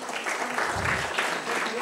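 Audience applause at an award ceremony for farmers' employment creation, steady dense clapping from a crowd throughout, fairly loud and close, with no voices over it.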